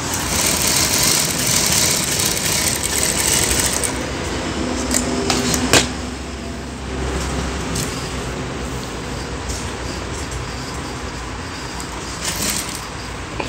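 An electric sewing machine runs steadily while stitching a fold in a traditional wrestler's langot cloth, a continuous motor whir that holds throughout with a short sharp knock partway, no talking.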